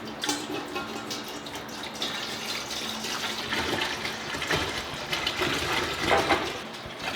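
About 2.5 gallons of water pour steadily into a brewing pot, a continuous splashing rush with no voices.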